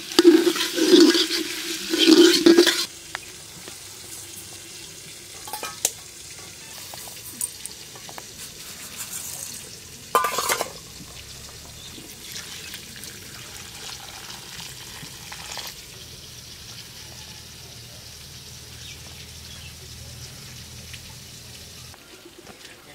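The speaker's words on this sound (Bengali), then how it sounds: "সয়াবিন আর আলু তেলের উপর কিছুক্ষণ ভালো করে ভেজে নিয়েছি।" Potatoes and soybean chunks frying in oil, a few seconds of loud stirring and sizzling up front, then a soft steady fry with occasional clinks of a spoon against the pan.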